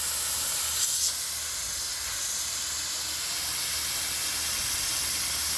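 An Aqua Comb pool filter cartridge cleaning tool sprays water in a steady, loud hiss with a brief burst at the start, continuous and without talk.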